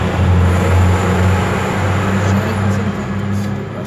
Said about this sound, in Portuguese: Lá vai outro carro para a Funchal.